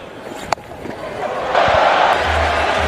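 Cricket stadium crowd at an England versus West Indies T20 match rising into a broad, mixed roar after a dropped catch, swelling midway and holding loud, with a commentator's voice faintly beneath.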